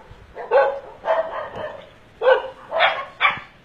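Dogs barking in short bursts at a house holding over twenty dogs, five or six sharp barks in quick clusters with brief pauses between, fairly close.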